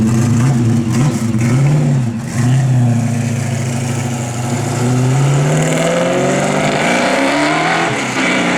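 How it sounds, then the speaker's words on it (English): Heavy street traffic with cars passing close by, engines rumbling and revving in overlapping waves, loud and continuous throughout with no talk. "it's got traffic like crazy here"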